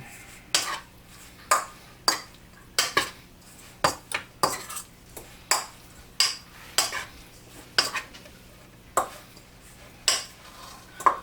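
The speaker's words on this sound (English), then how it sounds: "Alright, I'll go ahead and stir that up." Metal utensil stirring seasoned pork coated in a dry taco rub inside a bowl, a series of rhythmic clinks and scrapes roughly once a second, close and clear with no talking.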